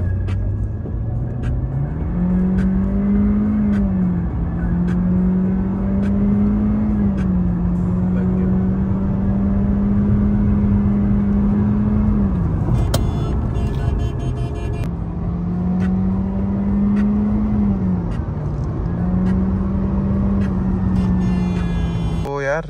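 A tuned Honda Civic RS making 215 hp accelerates hard during a night test run, its engine drone loud and steady, rising and falling through gear changes.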